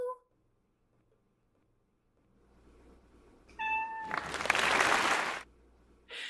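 A Siberian cat meows in tune along to Happy Birthday, a few clear pitched meows under a human voice singing meow, followed by a burst of broadband noise like clapping.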